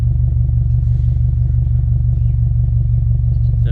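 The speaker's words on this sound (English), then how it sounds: "Very nice deep rumble, classic boxer motor." A boxer-engine car idling right after a cold start, a steady deep low exhaust rumble held evenly throughout, loud and close with no talking.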